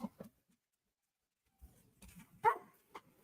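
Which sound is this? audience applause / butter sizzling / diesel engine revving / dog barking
dog barking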